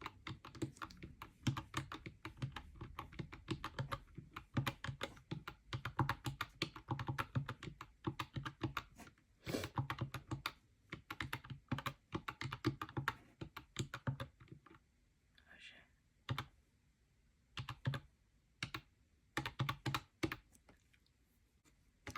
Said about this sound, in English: typing on this calculator